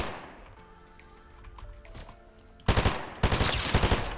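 Gunfire in the video game Fortnite: after a stretch of quieter game ambience, sudden loud bursts of rapid automatic shots break out, with a second volley following close behind.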